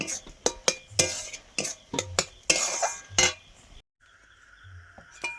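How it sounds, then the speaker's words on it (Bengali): A metal spatula stirs boiled chickpea dal in a pot, a run of sharp scraping clinks and knocks against the metal in uneven rhythm, close and clear, followed by a brief quiet stretch with faint clatter. "ছোলার ডালটা সেদ্ধ হয়ে গেছে, এই যে খুন্তি দিয়ে একটু ঘুটে দিচ্ছি।"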